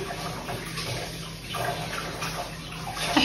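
Hot syrup poured over a hot carrot cake, a steady running liquid stream with a soft splashing texture, no voices.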